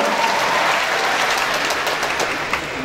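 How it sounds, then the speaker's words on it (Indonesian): A crowd at a university faculty student orientation event applauds, steady, fairly loud clapping from many people lasting the whole stretch with no talk over it. "Tepuk tangan dong untuk Big Dado."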